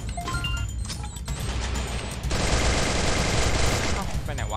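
Gunfire in the video game Free Fire, with rapid automatic bursts and scattered shots that build into a dense, sustained volley, close and loud, while players talk over it.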